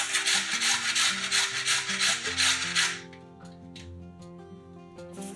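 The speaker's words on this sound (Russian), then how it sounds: "Одну свежую морковь трем на крупной терке." Fresh carrot scraped against a coarse grater in steady, loud rasping strokes for about three seconds, then stopping abruptly, with soft background music continuing alone.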